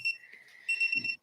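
A Pomodoro timer alarm sounding at the end of a 25-minute focus sprint, a short, thin electronic chime in two quick bursts, fairly quiet and alone.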